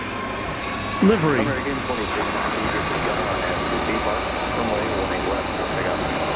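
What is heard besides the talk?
ABX Air plane taxiing across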